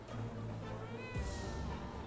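A cat meows in an apocalypse-themed video game, one drawn-out, wavering call that rises and falls over a steady background of game ambience.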